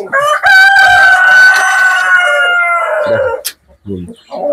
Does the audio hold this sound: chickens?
yes